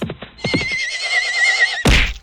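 Horse neighing sound effect: a loud, high, quavering whinny lasting over a second, preceded by a few sharp clip-clop hoof thuds and ending in a heavy crash-like thunk.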